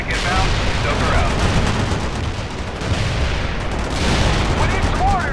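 A bomb strike and gunfire in the World in Conflict real-time strategy game: dense battle noise with continuous rumbling blasts and crackling fire, loud throughout, with radio-style voices faintly mixed in.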